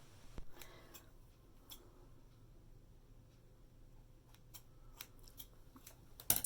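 Scissors snip hair during an updo cut, a handful of quiet, sharp clicks scattered across the quiet room.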